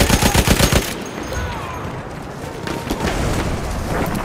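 Lewis Gun machine gun in Battlefield 1 firing a rapid loud burst that stops after about a second, followed by a rushing, rumbling battlefield din.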